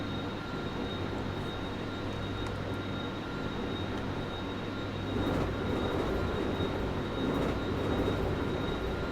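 Electric metro train motors whine steadily in the Hmmsim Metro rail simulator, a continuous droning hum with a high tonal line that swells louder partway through, heard alone without talk.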